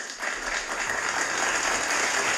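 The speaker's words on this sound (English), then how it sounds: "Let me clap it up for you guys." Dense, continuous applause from a crowd fills the whole stretch, bright and crackling, steady in loudness without any voices.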